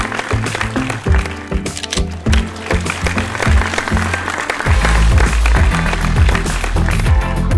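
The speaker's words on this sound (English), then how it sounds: "Everyone, a big round of applause for Amol and Ankita." At an Asia's Leading Brands & Leaders awards ceremony, the audience claps over loud stage music, the applause running under a heavy thumping beat throughout.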